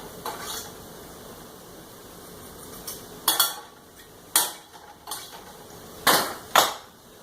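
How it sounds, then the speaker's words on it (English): A knife chops garlic on a cutting board in a home kitchen, making a few sharp, close knocks spaced irregularly over a low steady background, with no talking. "Just take my knife and cut her off."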